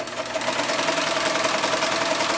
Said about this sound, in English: it's just kind of loud for a sewing machine compared to typical domestic sewing machines